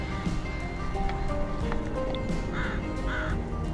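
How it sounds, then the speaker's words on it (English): Crows caw twice in quick harsh calls at moderate distance in Stanley Park, heard over a busy outdoor background with faint other bird chirps. "There are the crows."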